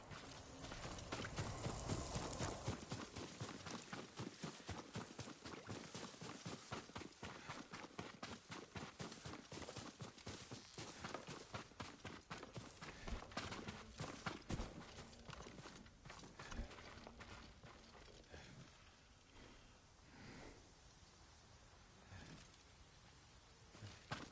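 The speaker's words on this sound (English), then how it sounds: "Yuriko's horse." Horse hooves clip-clop in the Ghost of Tsushima video game, a fast, steady stream of hoofbeats that slows and thins toward the end, heard alone without talk.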